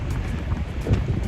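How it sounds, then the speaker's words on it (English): A strong southern Libyan wind gusts across the microphone on the coast at Matala, Crete, producing a continuous loud, low rumbling buffet with uneven surges. "I don't know if you can hear me because of the southern Libyan wind."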